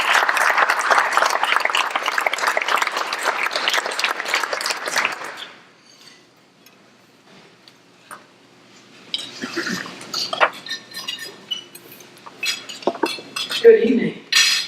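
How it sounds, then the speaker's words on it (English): A dinner crowd at a golf award ceremony applauds, dense clapping mixed with clinking cutlery and dishes for about five seconds, then dies into near silence before scattered table clatter and movement return. "Let's everyone please give a round of applause to Ms. Kristen Christman."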